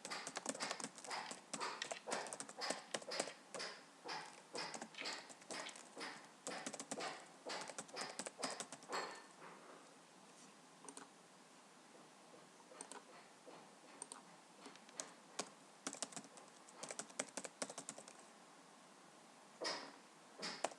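Keystrokes on a computer keyboard while chart data is entered for a scatter plot of heights, bursts of quick, close, fairly quiet clicks that thin out midway into sparse taps.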